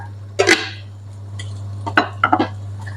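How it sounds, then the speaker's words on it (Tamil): Curry powder being stirred into a soya meat curry in a pan brings a few sharp metal clinks of the spoon against the pan, one early and a quick cluster later, over a low steady hum. "கறித்தூள் போட்டு நல்லா இதை கலந்து விட்டு கொள்ளுவேன்"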